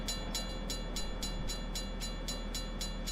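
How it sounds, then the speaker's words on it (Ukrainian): Freight train wagons roll past a level crossing in a steady, rhythmic clatter of wheels over rail joints, evenly spaced and continuous at close range, with a constant rumble underneath. "І ось останній вагон так приїжджає"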